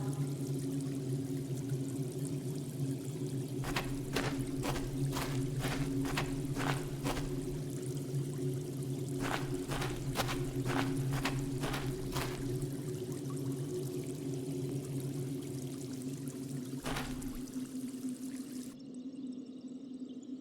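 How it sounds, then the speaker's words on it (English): Running water trickling into a deep natural well in the point-and-click game Willy Morgan and the Curse of Bone Town, a steady flowing stream over a constant low hum, broken by clusters of sharp drips and splashes. "It's a natural well formed by the running water."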